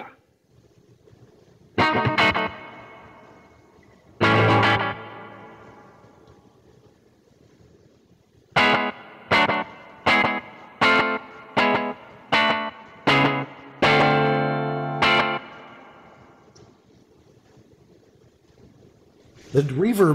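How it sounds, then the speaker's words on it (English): An electric guitar through an Earthquaker Dispatch Master pedal set to slapback delay with long reverb plays a few strummed chords, then a run of short rhythmic stabs, each trailing a washy tail. "The reverb is so long that it doesn't really go with the slapback idea."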